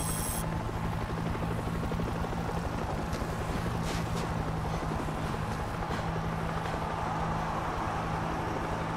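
A helicopter in World War Z Aftermath drones steadily for the full nine seconds, a constant low rotor thrum with a faint whine above it. It is fairly loud and unbroken, with no talking.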